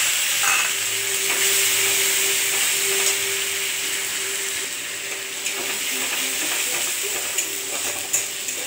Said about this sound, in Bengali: এবার হচ্ছে চিংড়ি মাছটা দিয়ে দিচ্ছি।